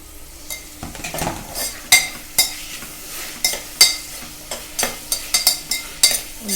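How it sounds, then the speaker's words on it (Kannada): Potatoes and tomato fry in a pan for pudina rice, a soft sizzle under repeated scraping strokes of a metal spoon against the pan, close and rhythmic with sharp clinks. "ಒಂದು 2-3 ಮಿನಿಟ್ಸ್ ಫ್ರೈ ಆಗಬೇಕು."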